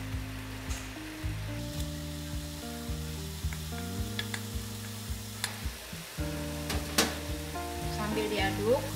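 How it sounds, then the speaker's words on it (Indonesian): Sambal urap mixture sizzles and bubbles at a boil in a pan as grated coconut goes in, a steady close frying hiss with occasional clicks and a low tonal hum beneath. "kalau sudah mulai berbuih-buih begini ya, mulai mendidih, saya masukkan kelapanya di sini ya"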